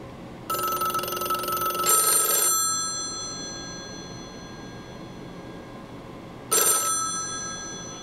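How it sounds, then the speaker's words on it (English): A desk telephone rings for an incoming call. Two close electronic ring bursts sound back to back, and after a long pause a third short burst follows. No one speaks. "initially only this phone was ringing"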